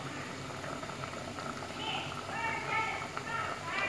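Dried fish curry, karuvadu kuzhambu, boiling hard in a pot, giving a steady close bubbling and churning that carries on without a break for a few seconds.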